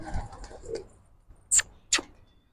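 Faint pigeon sounds in a quiet setting: a soft low coo, then two sharp, brief fluttering bursts close together.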